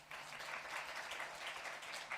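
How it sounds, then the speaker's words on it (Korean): A church congregation claps to welcome returning elders and deacons at a Sunday service, moderate, even applause from a room of people that continues without a break. "박수를 한번 환영할까요?"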